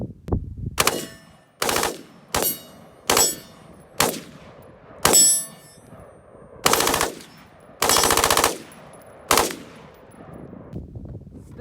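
A semi-automatic rifle fitted with a Delta Team Tactical FRT-15L3 forced reset trigger fires in about nine loud, close bursts of rapid shots outdoors, each burst separated by short pauses and the last ringing off.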